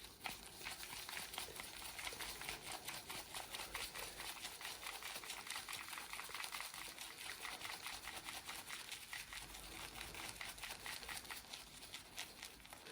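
Water is poured into a ceramic shaving bowl while building lather with a synthetic badger brush, a steady splashy pattering that stays close and even for about thirteen seconds with no talk.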